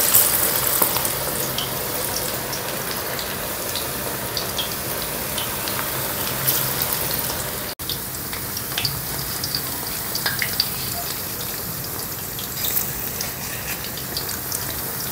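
Chinese chicken pakoda frying in oil over a slow flame gives a dense, continuous sizzle and crackle, close and steady, with occasional stirring noises and no talking.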